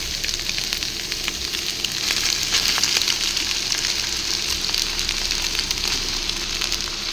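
Rice for egg fried rice frying in a hot pan, a dense, continuous sizzle heard up close, steady throughout with faint crackles and no voices.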